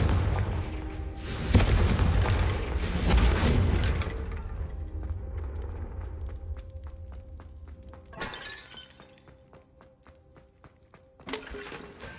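Fiery Confringo spell blasts in Hogwarts Legacy on PS5: two loud shattering explosions in quick succession with rumbling debris, followed by sparse crackles and two further sharp bursts later.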